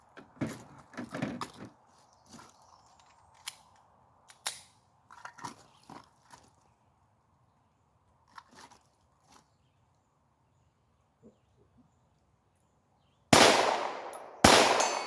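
Ruger Mark IV .22 pistol fired at a 65-yard target, with a series of sharp, irregularly spaced shots that thin out toward the end, then two loud close bangs near the finish.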